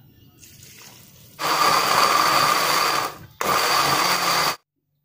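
Electric blender coarsely grinding red chilies, garlic, shallots and bird's eye chilies with water, a loud steady whirring roar in two bursts with a brief pause between, preceded by faint quieter sounds and ending abruptly.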